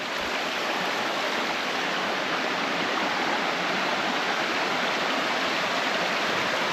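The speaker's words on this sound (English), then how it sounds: "Still right along the stream." A stream rushes continuously through a pine valley with steep cliffs near Round Island Falls, a steady, dense wash of flowing water with no breaks and no voices.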